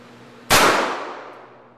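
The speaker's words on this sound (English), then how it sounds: "I'll shoot at the other target this time." A single loud, close revolver shot from a .38 loaded with a 158-grain lead semi-wadcutter over 2.8 grains of Trail Boss powder, a sharp crack that rings and fades over a second.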